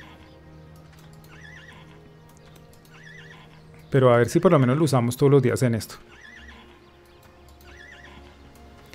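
Horses in Albion Online neigh in a loud burst of whinnies lasting about two seconds, surrounded by quieter game ambience with a person speaking Spanish over it.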